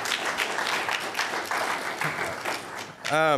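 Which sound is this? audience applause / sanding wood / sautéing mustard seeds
audience applause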